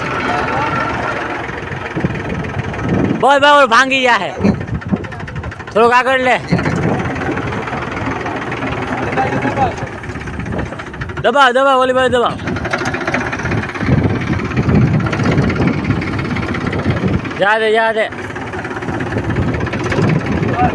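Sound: tractor engine running while pulling

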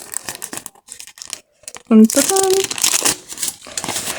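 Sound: plastic packet crinkling

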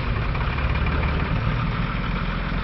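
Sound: six-wheel truck engine idling

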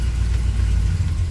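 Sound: cold carbureted LS engine running rough

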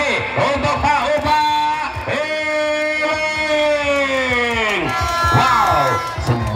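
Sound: crowd applauding and cheering at a ball game

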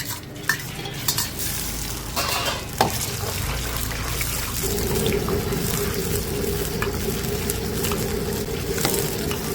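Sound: stir-frying meat in hot oil

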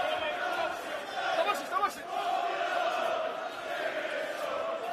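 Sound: boxing crowd cheering during fight

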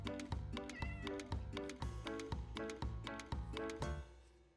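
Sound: cat meowing in video game KiwiLife2

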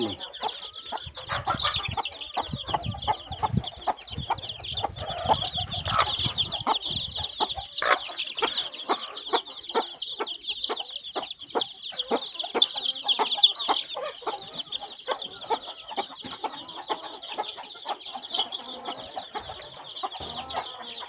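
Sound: free-range chickens clucking

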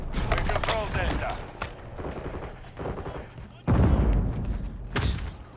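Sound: gunfire in shooter video game

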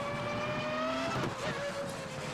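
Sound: race car engine and tire squeal in racing simulation video game

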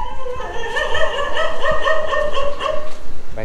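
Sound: dogs barking

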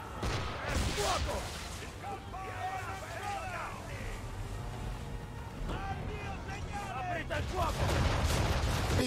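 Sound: ship cannon fire in Assassin's Creed 3 video game

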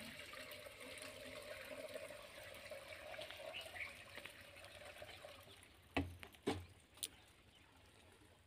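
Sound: water flowing while priming a farm water pump

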